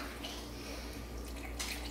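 Sweetened almond milk is poured from a carton into a mix in a home kitchen, a steady soft liquid trickle with a slight splash near the end.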